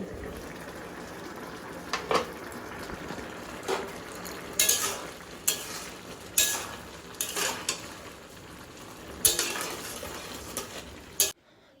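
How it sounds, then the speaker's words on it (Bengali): Potato curry with egg being stirred and fried in a pan, with intermittent metallic scrapes and clinks of a utensil over a low, steady sizzle. "আর রাতে রান্না করছি আলু চচ্চড়ি, তাও আবার ডিম দিয়ে।"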